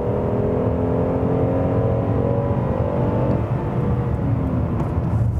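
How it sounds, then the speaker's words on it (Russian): A Kia K900 car accelerates from 80 to 110 km/h in comfort mode, a steady loud cabin drone of engine and road noise with a faintly rising whine, continuous and close, with no talking. "Вот я сейчас попытаюсь разогнаться вот с 80 до разрешенных"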